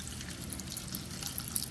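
Water, about 100 millilitres and ideally filtered, is poured in to thin a homemade soap paste, a steady, quiet, hissing trickle heard alone throughout.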